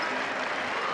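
A basketball crowd at a Northwest Missouri State vs Washburn regional semifinal applauds its seniors, dense continuous clapping filling the arena for the whole brief moment.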